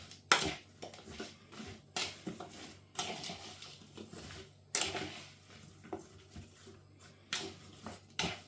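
Flour and crumble topping being mixed in a bowl for an apple crumble: repeated rhythmic clinks and scrapes of a utensil against the bowl, fairly close and moderately quiet, with short pauses between strokes.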